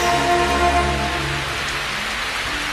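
Steady rain falls in an anime scene, a dense even hiss that continues without a break, with a low tonal drone underneath and no talk.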